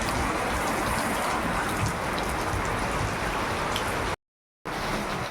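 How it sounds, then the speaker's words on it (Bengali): Heavy rain falling outside, a dense, steady broadband hiss that runs continuously and loud, broken only by a brief gap of silence near the end before resuming. "বাইরে প্রচুর বৃষ্টি হচ্ছে সকাল থেকেই"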